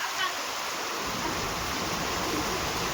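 A river running full after heavy rain rushes in a dense, continuous roar of flowing water, close and loud, with a voice briefly audible beneath it.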